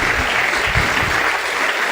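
A church congregation claps for Christ during a Spanish-language sermon, with dense, loud, steady applause filling the room throughout.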